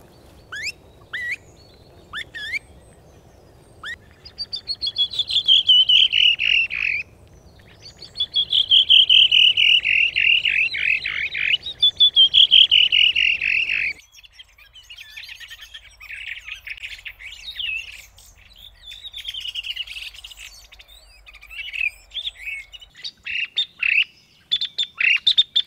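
Caged thrush decoys used in a thrush hunt call outdoors: a redwing, fieldfare, mistle thrushes, a blackbird and song thrushes. They give repeated high, scratchy squawks and chirps in bursts, with clicks in between and no talking.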